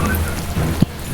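Rain in a Roblox game hisses steadily as a dense wash of falling drops, with a short thump near the end and no voices.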